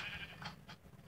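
Sheep bleat in a video game, a faint quavering call that comes in two short bursts, alone and without talk.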